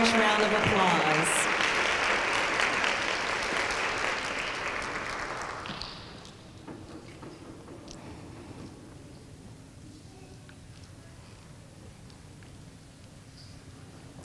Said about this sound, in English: Please give our elementary students, grand prize winners, a large round of applause